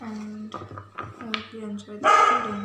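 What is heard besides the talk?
dog barking at a cat outside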